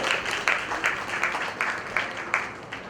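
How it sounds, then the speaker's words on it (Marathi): An audience at a stage event celebrating the Marathi language claps together in a quick, rhythmic burst of applause, heard from a moderate distance with a faint murmur underneath. "त्यांच्यासाठी एकदा जोरदार टाळ्यांचा गजर करूया"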